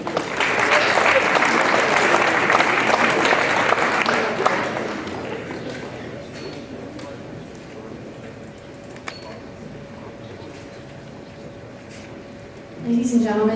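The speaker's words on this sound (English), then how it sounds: "One more round of applause for them." Audience applause for national semifinalists at an evening event, loud sustained clapping from a large crowd that fades gradually over several seconds before a voice begins speaking at the end.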